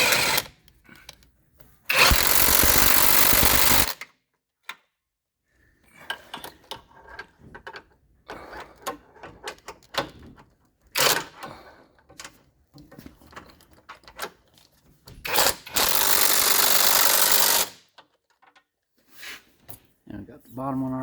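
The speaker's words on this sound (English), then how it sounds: "be able to reach that bolt with the El Impacto" An impact driver works a shock bolt on a Jeep JK during an Elka shock install, firing in two loud hammering bursts of about two seconds each, close by, with talk and clanking tool handling between them.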